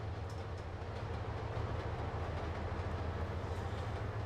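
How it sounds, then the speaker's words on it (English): A Santa Fe train in the Trainz Simulator 2 game rolls past on a Highland Valley Industries route, giving a steady low rumble and continuous track noise with no talking. "Oh, that's that Santa Fe train."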